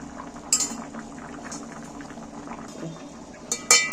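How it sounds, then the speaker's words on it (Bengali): Ghugni curry simmers in a covered pot with a steady, soft bubbling close by. A few sharp metallic clinks from the lid or a utensil punctuate the boil. "এবার এটাকে একটু ফুটতে সময় দিতে হবে, একটু চাপা দেবো নি, অমনি ফুটবে"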